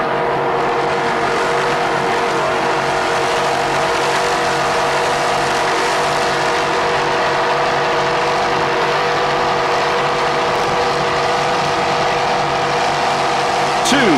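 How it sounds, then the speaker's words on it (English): Two 550-horsepower racing inboard engines drive an offshore race boat at Lake of the Ozarks in 1994, a loud, continuous, close droning roar with a steady tone throughout. "two 550 horsepower reed racing inboards doing their job"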